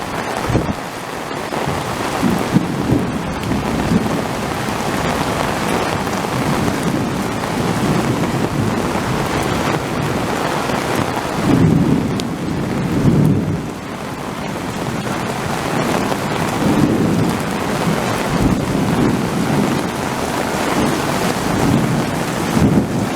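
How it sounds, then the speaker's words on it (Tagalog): Heavy rain pours steadily with deep rolling thunder rumbling underneath, swelling and fading several times, loud and close with no voices. "kulog ng kulog sobrang lakas ng kulog biglang umulan ng malakas"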